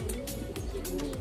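A tame racing pigeon in a loft gives soft, low cooing notes, a few short murmurs close by with no talk over them.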